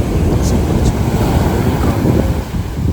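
Waves wash onto the beach at Kapu in Udupi, a loud continuous surf roar heavily mixed with wind buffeting the microphone.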